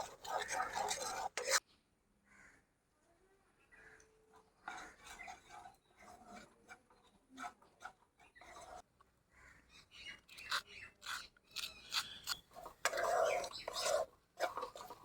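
Milk powder is stirred little by little into melted sugar in a pan for village-style apple sondesh, with intermittent scraping and clinking of a utensil against the pan, close but quiet, separated by pauses.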